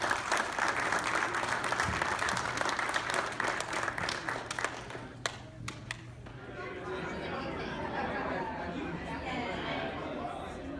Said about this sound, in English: round of applause for all the recipients